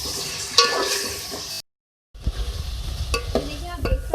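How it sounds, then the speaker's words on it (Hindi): Sizzling and scraping of onions and ginger-garlic paste frying in a pan with stirring, a brief silent gap midway, then continued crackling and utensil scrapes. "प्याज को भी फ्राई करेंगे।"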